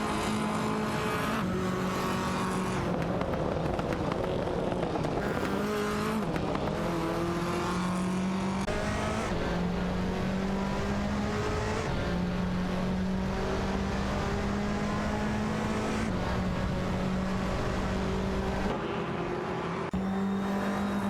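Race cars in a racing video game, including an Audi TT Cup, roar continuously with steady engine drones that rise and fall through gear shifts, several cars close together on track, no voices.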